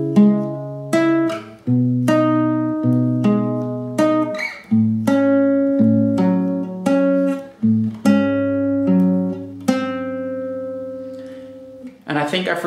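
Acoustic guitar plays the first four bars of the bridge, clear plucked notes and chords ringing out one after another, close and solo with no talk.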